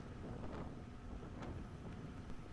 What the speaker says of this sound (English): That was a huge, huge gust right there at the end.